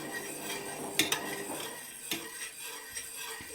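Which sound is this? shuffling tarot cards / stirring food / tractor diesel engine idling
stirring food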